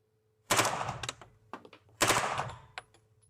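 H&K MP5 submachine gun firing two short bursts of rapid shots, each a loud cluster of sharp reports followed by scattered single cracks, close and with no talking.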